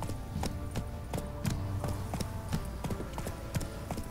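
Horse hooves clip-clopping at a steady walking rhythm in The Witcher 3, close and clear, with a faint hum of game ambience underneath and no talk.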